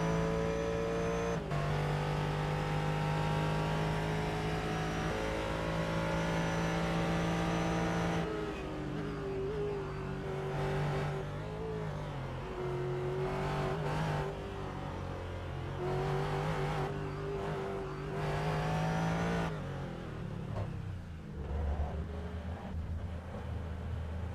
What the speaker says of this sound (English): listen to the awesome power of these Ford GTs as he does the lap around the Sebring International Raceway